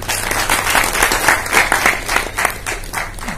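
An audience at a health awareness seminar breaks into loud, sustained applause, a dense patter of many hands clapping close by for several seconds.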